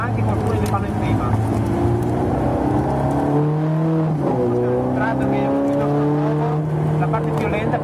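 Ferrari 430 Scuderia on the Nürburgring short track, engine loud and close as it brakes and drops through the gears, revs falling in stepped downshifts with a whirring drone, while someone talks over it.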